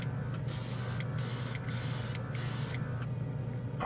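Airbrush spraying auto paint onto the roof of a model car: a steady, close hiss that pauses briefly several times, over a constant low hum.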